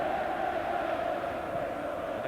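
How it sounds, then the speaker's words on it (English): Football crowd at a Derby County versus Arsenal League Cup third round match raising a sustained, droning roar of voices across the stadium, steady and fairly distant. "Crowd now really raising their voices, lifting the Derby team."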